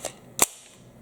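A magazine snaps into a CZ Scorpion Evo 3 on a tabletop: one faint click, then a sharp, close metallic lock about half a second later, alone in a quiet room.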